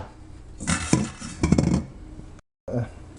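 Pepper is stirred into a seal blood pudding mixture, with a utensil scraping and clinking against the bowl in a few close bursts before a short pause.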